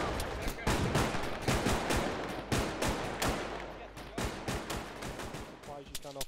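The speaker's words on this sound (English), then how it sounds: "I have no idea where this fire's coming from." Irregular bursts of video game gunfire crack out repeatedly, some in rapid clusters and others as single shots, moderately loud with voices talking in between.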